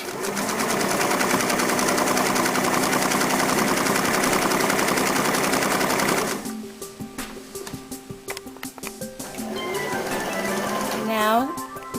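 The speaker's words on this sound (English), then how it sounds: "press on your foot pedal to add power and stitch down the length of your marking" A Singer sewing machine with a buttonhole foot stitches a buttonhole in a loud, fast, steady rattle for about six seconds, then stops. Scattered clicks and quiet handling noises follow.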